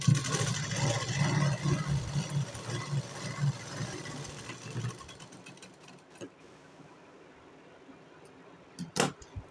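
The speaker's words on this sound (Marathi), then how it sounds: "आता आपल्याला स्ट्रेट शिलाई मारून घ्यायची आहे" A sewing machine runs straight stitching on a blouse, humming in a close, steady mechanical whir for about five seconds before stopping, then faint handling sounds and a brief knock follow.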